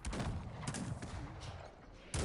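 Scattered musket gunfire crackles in the distance in the video game Cossacks 3, a ragged volley of shots with a sharper burst at the end, amid a noisy battle din.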